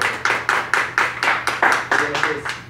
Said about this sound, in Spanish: Fuerte las palmas, Catarro.